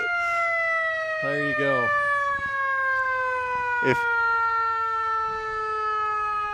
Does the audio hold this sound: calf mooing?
no